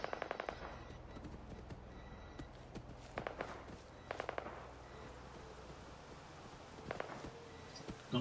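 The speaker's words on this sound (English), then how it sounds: "Gunfire's coming from." Gunfire rattles in the video game Fallout 4 during a clear-out of the Corvega plant, coming in short, distant-sounding bursts with sharp individual cracks spread across quiet stretches.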